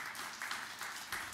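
A church congregation claps in faint, distant bursts, soft rhythmic applause at low volume.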